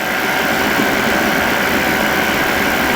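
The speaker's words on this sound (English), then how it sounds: "So let's try cruise RPM and see what the torque is like." A flexwing microlight aircraft engine runs at cruise RPM in flight, a loud, continuous, steady drone with broadband wind rush, heard close and unbroken throughout.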